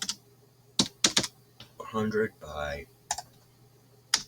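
Close, crisp clicks from a computer keyboard come in a few quick bursts of keystrokes, and someone speaks briefly between them.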